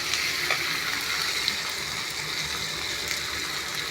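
A bay leaf drops into hot oil for prawn dum biryani, and a continuous, fairly loud frying hiss and crackle runs throughout with a few small pops.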